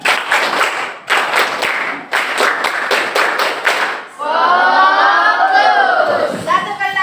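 A class does a rhythmic focus-clapping icebreaker: several quick bursts of sharp group claps in a set pattern, then the pupils shout a loud chanted response together.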